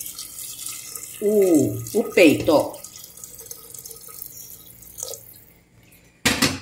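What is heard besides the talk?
water running into cooking pot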